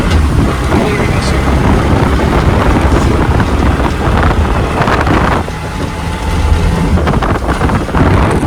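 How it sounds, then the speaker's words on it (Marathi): Strong wind buffets the microphone outdoors during rainy weather, a loud, continuous roaring rumble with gusty surges that dips briefly midway, with a voice faintly present. "भरपूर म्हणजे भरपूर प्रचंडात वारं आहे."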